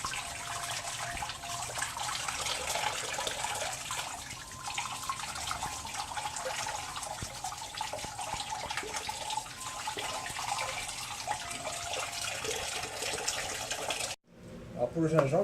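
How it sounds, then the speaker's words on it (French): Tap water runs steadily into a sink while fresh ginger root is scraped clean of soil beneath it, a continuous close rush that stops abruptly near the end, with talk over it. "Vous le grattez juste sous l'eau en fait, pour bien enlever tout l'excès de terre"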